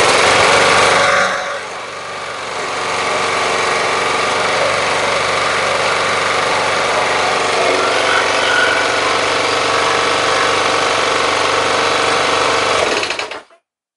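A Briggs & Stratton lawn mower engine running at raised RPM after a governor adjustment, a loud, steady high-pitched buzzing drone that holds for over ten seconds before cutting off abruptly.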